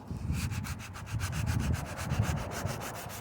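Sanding Bondo body filler by hand with 40 grit sandpaper, a close, rhythmic rasping scrape of steady back-and-forth strokes, roughly four or five per second, with no voices.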